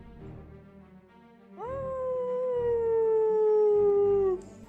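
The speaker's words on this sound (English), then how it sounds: "The howling came again that night." A long, loud wolf-like howl rises sharply and then holds a steady, slowly falling tone for a few seconds before breaking off, heard alone over a low background murmur.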